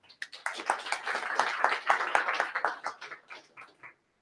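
Applause from a startup pitch livestream audience, a steady patter of many hands clapping at moderate volume that tapers off toward the end, with no talk over it.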